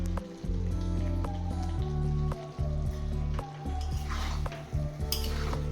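Vegetable mix with fried paneer and a pinch of garam masala being stirred in a pan, steady sizzling under repeated close scrapes and clinks of a spoon against the metal, no voices.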